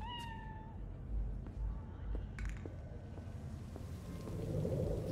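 Cat meowing in Cyberpunk 2077, a few short rising meows near the start over a steady bed of rain and distant thunder rumbles, fairly faint.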